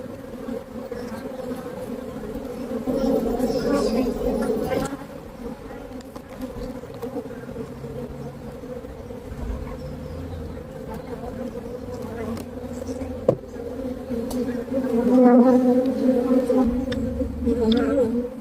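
Honey bees swarm and buzz steadily around a beehive after the honey has been extracted, a dense close drone that swells and fades slightly, with faint talk now and then.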